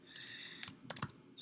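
Keys clatter on a Mac computer keyboard, a short burst of quick, close clicks in uneven clusters, fairly quiet with no talk.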